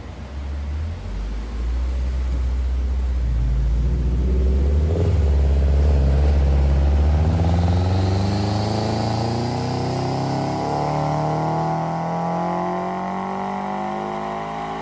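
A Toyota GR86 fitted with an AVO turbo kit revs through a run, the engine note climbing steadily in pitch and loudness for several seconds before easing off into a lingering drone.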